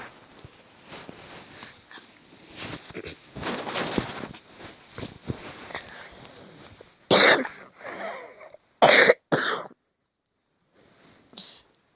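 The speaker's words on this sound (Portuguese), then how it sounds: "Quem tossiu?" Several sharp human coughs burst out near the end of an early-morning stretch, loud and close, two or three abrupt bursts after quieter rustling and faint movement.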